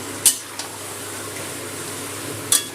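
Chicken meat with yogurt being stir-fried in oil over high gas, a steady low sizzle broken by two sharp metallic scrapes of a utensil against the pan, with no talking.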